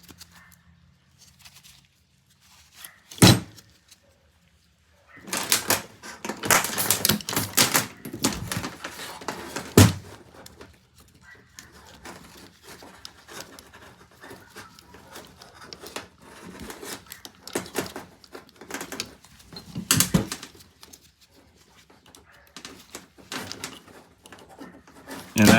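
Needle nose pliers clamp a tag onto an animal trap. Close metallic clanks, clicks and rattles come in irregular bursts, with a sharp knock early on and quieter handling noise in between. Nobody speaks.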